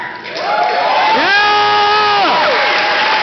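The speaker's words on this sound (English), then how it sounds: "through your applause, screams, chants, to let him know that this is only the beginning." A crowd at a Ron Paul political rally erupts in loud cheering, with sustained whoops and high screams over dense clapping and shouting, building quickly and staying loud throughout.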